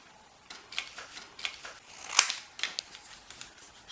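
Scissors trim the paper tabs of a rainbow pop-up card. Several short, sharp snips come close and distinct, with one louder cut in the middle, against quiet surroundings and no voice.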